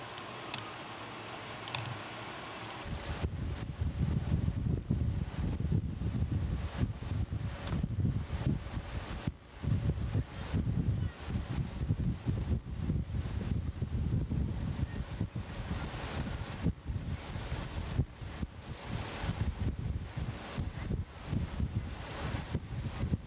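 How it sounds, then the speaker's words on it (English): Steady, heavy wind buffeting a microphone outdoors, a dense low rumble with gusty fluctuations that fills the whole stretch with no other clear sounds. "Wind's making it a little jiggly."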